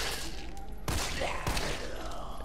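Gunshots ring out in Resident Evil 3, two sharp, fairly faint cracks about half a second apart over a low background hum.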